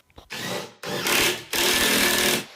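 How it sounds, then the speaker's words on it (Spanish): A power drill bores pilot holes into wood for screws while a camper cabinet for a car boot is built, giving three loud, steady whining bursts with brief pauses between them and no talking. "hay que hacer un agujero con un taladro primero y luego meter el tornillo"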